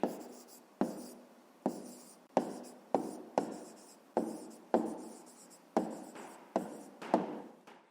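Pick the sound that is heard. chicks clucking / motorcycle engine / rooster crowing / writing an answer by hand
writing an answer by hand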